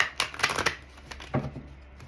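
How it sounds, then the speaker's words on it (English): Tarot cards being shuffled by hand, a close, soft flurry of papery riffles and slaps in quick bursts that trail off into lighter rustles, with no speech. "Excuse the shuffling for those of you who have a sensitive ear"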